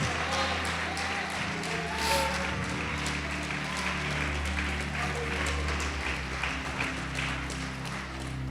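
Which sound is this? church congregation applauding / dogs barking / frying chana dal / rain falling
church congregation applauding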